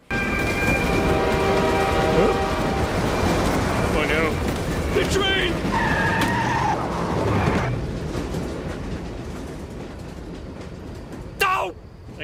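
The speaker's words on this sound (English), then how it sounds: "That's the train." A cartoon train rumbles past up close in The Simpsons, with steady low roar and brief higher whistle-like tones, and a short sharp squeal near the end.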